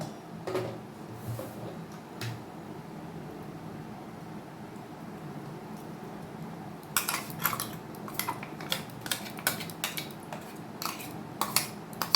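Fish paste being scooped into a bowl for bhetki paturi, with light clinks of a spoon and dishes in a quiet kitchen, soft at first, then a quick run of sharp taps in the second half.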